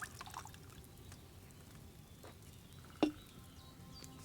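In Kingdom Come Deliverance 2, wine is poured into a cauldron as a faint trickle and patter, with one brief louder splash or clink partway through, heard alone at low volume.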